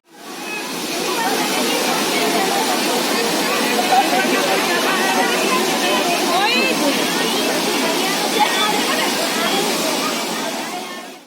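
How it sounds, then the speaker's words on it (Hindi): Waterfall at Ramrama Mahadev in Balaghat, a loud, continuous rushing roar of falling water, steady throughout, with a large crowd of visitors adding faint babble beneath it. "यहाँ झरने के नज़ारे जो है बहुत देखते ही बनते हैं"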